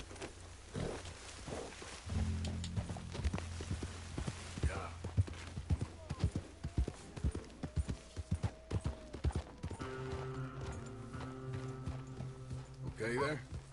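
Horse hooves clip-clopping in Red Dead Redemption 2, a steady walking rhythm of close, distinct thuds with occasional snorts and faint game background sound.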